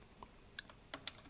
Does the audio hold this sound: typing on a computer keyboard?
yes